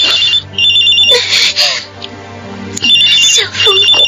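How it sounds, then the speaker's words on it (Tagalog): A cellphone plays a bright melodic ringtone, loud and close, in two repeating phrases separated by a short lull. "Cellphone ko."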